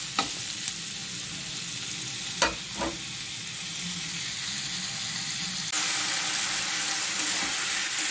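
Small fish and potatoes sizzling in a pan as they are stirred, a continuous close frying hiss with a couple of sharp scraping clicks from the spoon, growing slightly louder near the end.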